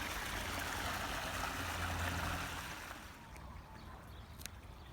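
Water floods across a grass lawn in Arizona through underground flood irrigation, a steady broad rushing and trickling that eases and softens partway through, with no talk.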